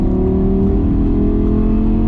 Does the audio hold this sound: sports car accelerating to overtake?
yes